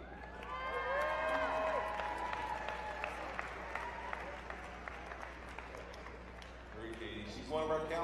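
Applause from a crowd at a 2018 Dixie High School graduation, sustained clapping that carries on steadily for several seconds while a voice speaks over a loudspeaker, then tapers and briefly swells near the end.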